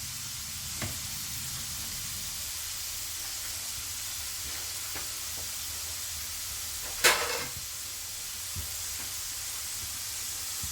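Sweet corn kernels deep frying in hot oil, a steady close sizzle and hiss throughout with a few sharp bursts of spattering and stirring clatter, one louder crackle near the middle.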